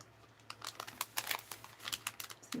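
Crinkly plastic packaging of a purchased item being cut open with scissors, close up, giving a run of short rustling, snipping crackles with no talking.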